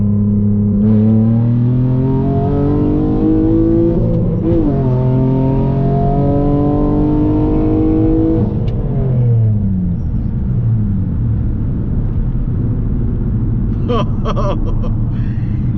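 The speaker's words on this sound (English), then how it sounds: "This thing pulls from 40 and it breaks the tire loose on second gear." A 6-speed manual-swapped Nissan Maxima accelerates hard, its engine note climbing steeply through the gears with a break at each shift, loud and close inside the car, with a raspy burst near the end.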